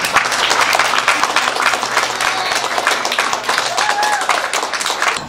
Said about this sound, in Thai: ขอเสียงปรบมือให้ความอบอุ่นของแม่ค่ะ